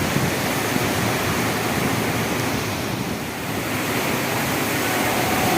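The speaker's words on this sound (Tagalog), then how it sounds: "Lakas ng ulan dito sa Baharas," Heavy rain pours steadily with strong wind in Saudi Arabia, a dense, loud, unbroken roar of water and gusts with no pauses.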